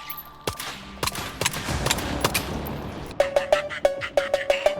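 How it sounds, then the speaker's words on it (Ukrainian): Sharp bursts of gunfire in the video game STALKER 2 ring out, scattered shots at first, then a rapid rhythmic volley of repeated rounds toward the end. "я прям по тобі стріляю і не попадаю"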